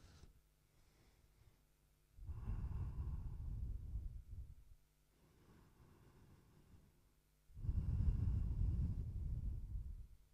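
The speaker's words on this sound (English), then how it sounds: "focusing on your breath" Slow, deep breathing during an office stretching break, with two long loud breaths standing out around softer ones, each a broad airy rush close to the microphone, separated by quieter pauses.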